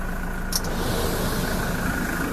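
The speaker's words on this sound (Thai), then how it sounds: "เดี๋ยวให้ฟังเสียงเครื่องยนต์นะครับ" A 2017 Toyota Commuter 3.0 van's engine idles with a steady, even hum and hiss heard close up, alone without talk, one brief high click near the start.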